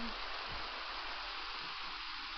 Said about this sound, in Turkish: Bir de yağmur yağıyor.